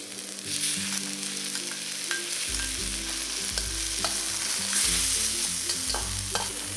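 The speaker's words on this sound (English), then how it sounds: "Remove the excess oil and fry the shallots and garlic. Then the Sambal Belacan." Shallots, garlic and sambal belacan frying in a wok for seafood nasi goreng, a close, steady sizzle with clacking stirs and scrapes of the spatula throughout, no voices.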